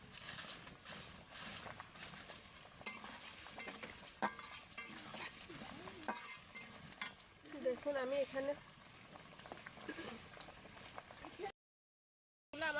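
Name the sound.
potatoes and spinach frying and being stirred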